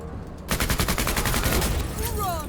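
Rapid volley of gunfire from the sci-fi tactical video game MENACE bursts in after a brief quiet start, a dense stream of close, loud shots running steadily, with a rising electronic whine near the end.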